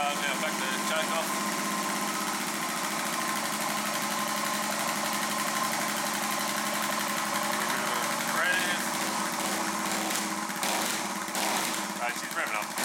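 A Suzuki DR650 motorcycle engine starts and runs at a steady, buzzing idle, loud and close, continuing throughout with a voice speaking over it.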